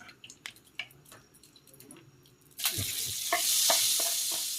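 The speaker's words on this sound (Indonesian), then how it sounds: "kita goreng lagi" Eel being stir-fried in a pan: quiet clinks and drips at first, then a sudden loud, steady sizzle as the food hits hot oil, with scattered stirring sounds over it.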